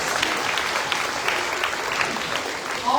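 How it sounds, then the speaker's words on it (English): A crowd at a county fair opening ceremony applauds in a dense, steady wash of clapping that stays even and fairly loud throughout, with no speech on top. "So let's give these girls a round of applause."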